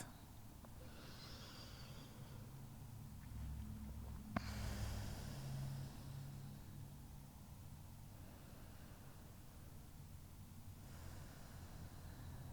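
Slow, deep breaths drawn in and let out during a yoga forward fold, soft and close over a steady background hiss, with a sharper snort-like exhale near the middle.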